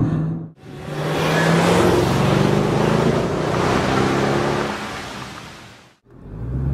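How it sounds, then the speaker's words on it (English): Mercedes-Benz E55 AMG pulling away hard in first gear, a loud, sustained engine roar with rising harmonics filling nearly six seconds, bracketed by brief dips before and after. "This is what a first gear start feels like in the E55."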